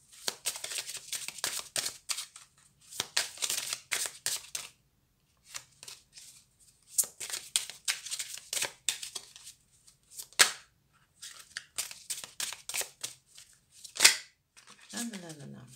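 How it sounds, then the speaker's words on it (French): Tarot cards are being shuffled by hand in quick riffling bursts, repeated in several separate runs of crisp papery flutters, close and clear, with short pauses between them and a soft tapping near the end. "Je vais bien brasser."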